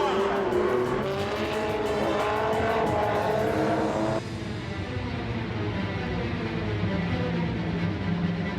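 An Alpine Berlinette and a Porsche 906 race side by side on a tour-auto rally, engines howling loudly and revving high before dropping to a lower rasping drone as they pass.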